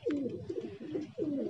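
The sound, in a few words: pigeons cooing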